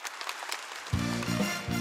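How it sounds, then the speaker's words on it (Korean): Audience at a Korean song contest applauds to welcome an invited singer, a steady wash of clapping soon joined by a low musical intro beginning underneath. "큰 박수로 맞이해 주십시오."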